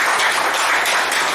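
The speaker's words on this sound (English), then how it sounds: "Please, a round of applause for Toastmaster Jay." Brief, steady applause from a small audience at a Toastmasters club meeting, a short burst of indoor clapping with no talk over it.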